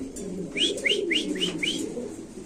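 Spanish Pouter pigeons coo close by at a pigeon market, with a run of about five short rising calls repeating at an even pace over a low murmur.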